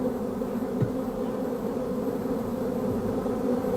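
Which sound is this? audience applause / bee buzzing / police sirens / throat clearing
bee buzzing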